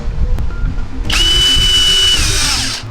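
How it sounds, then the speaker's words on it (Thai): Power drill boring into a concrete wall to set wall anchors during a light-wall home renovation; after a quiet start with small knocks, a loud steady high-pitched whine runs for almost two seconds, close and alone, then tapers off. "แนวพื้นแนวผนังบ้านใครเป็นปูนนะครับ เราก็เจาะนะครับ เพื่อฝังปุ๊กครับ"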